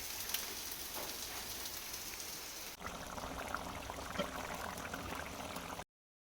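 Steady rain falling outdoors where cows stand getting soaked, a continuous hissing patter with a brief dip midway, no talk.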